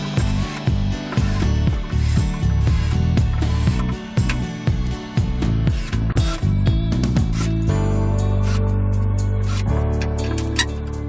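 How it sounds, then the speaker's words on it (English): A power drill fitted with a countersink bit bores screw holes into a wooden workbench top, running in a string of loud whirring bursts with short pauses between holes, then a steadier hum toward the end. "I'm going to use a countersink drill bit, which just really kind of drills out a bit of a hole"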